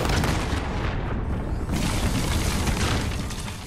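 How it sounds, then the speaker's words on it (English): Thrown grenade going off in Call of Duty: a loud, broad blast with a rumbling tail that stays dense for several seconds amid battle noise, no speech. "Aaron said that there was a guy up there, and so I threw a grenade instinctively"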